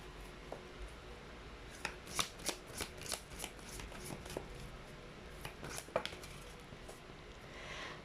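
Oracle cards being shuffled and pulled from the deck: a quick series of soft, papery riffles and flicks in two bursts, close and quiet, with no talking.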